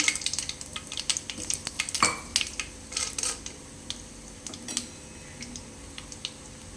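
Mustard seeds, cumin and lentils fry in hot oil for semiya upma, with light crackling and popping plus scattered scrapes and taps of a spoon against the pan, close and fairly quiet.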